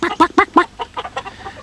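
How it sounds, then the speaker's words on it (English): Broody hens sitting on nest boxes squawk in alarm, a rapid run of sharp, loud clucks that tails off into softer, spaced cackles. "they squawked in alarm"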